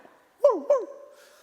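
A preacher at a Friday church service imitates a dog barking with two quick, loud voiced barks and a short trailing whine.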